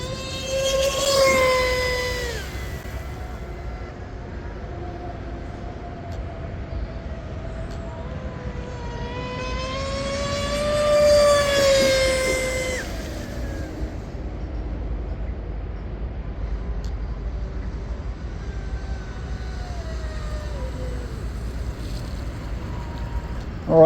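A fast 8S-powered Cozy M950 RC airplane makes two distinct flybys outdoors, each a rising and falling motor whine with a strong pitch sweep as it passes close, then fades away into a faint distant drone.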